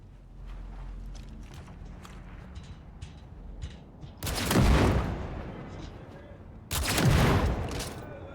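Two heavy revolver shots from a new tech revolver in a video game, each a loud broadband blast with a lingering tail, fired a couple of seconds apart after a stretch of quieter background game noise and murmuring.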